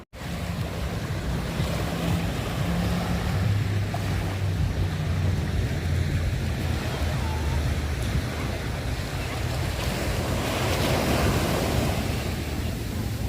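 Sea waves wash continuously onto a busy beach with blue-green water, a loud, steady roar of surf mixed with wind buffeting the microphone, with no break in the wash.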